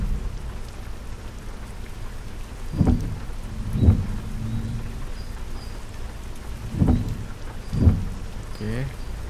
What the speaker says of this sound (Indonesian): Waduh mana deras lagi.